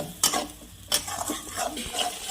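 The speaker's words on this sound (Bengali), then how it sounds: "আর মশলাটাকে আমি একটু ভালো করে কষিয়ে নেব।" Spice paste being fried and stirred in a pan with a little water, a spoon scraping in a few quick strokes over a low sizzle, close and clear.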